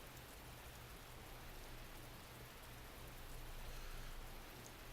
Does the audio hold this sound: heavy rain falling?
yes